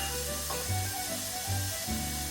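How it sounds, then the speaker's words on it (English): Onions sautéing in a pan until soft and translucent, for gluten-free meatball sauce: a steady, soft sizzle and hiss with a low hum underneath, close and continuous, with no one talking. "sauteing the onions. You don't want to burn them"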